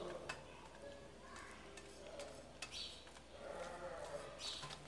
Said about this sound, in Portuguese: Aí vamos misturar